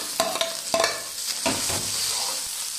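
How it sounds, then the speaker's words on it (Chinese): Sichuan peppercorns, star anise, scallion, ginger and garlic hit a wok of rendered pork fat for dry-fried green beans. A spatula scrapes and knocks a few times over a close, steady sizzle, with no talking. "大料、葱姜、蒜头下锅。"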